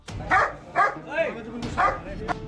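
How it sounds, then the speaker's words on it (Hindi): Neighborhood dogs bark at thieves during a burglary caught on CCTV: a run of sharp, repeated barks and yips, fairly close and loud, in a noisy outdoor recording. "इलाके के कुत्ते बदमाशों की तरफ दौड़ रहे थे। वो लगातार भौंक रहे थे।"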